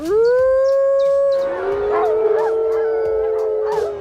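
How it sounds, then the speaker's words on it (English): Wolves howl in long, rising, sustained tones, one dominant howl steady and loud with other pack voices overlapping and wavering behind it, fairly near and with no talking. "learn to understand the howling of the wolves"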